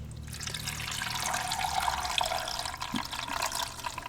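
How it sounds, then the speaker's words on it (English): Blix photo chemical is poured into a film processor tank from the top, making a continuous close liquid splash and gurgle over four seconds with small drips and a faint hum beneath. "I'm going to pour in the Blicks from the top here to hopefully minimize any spills."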